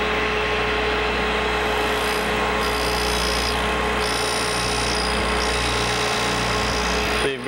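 A grinding wheel sharpens a drill point, giving a steady, loud, continuous whine and grind that holds for several seconds without pause.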